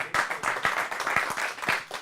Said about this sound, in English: let's give Peter a round of applause